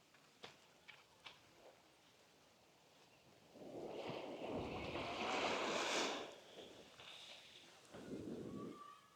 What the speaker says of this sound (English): This is just an intense, beautiful beach.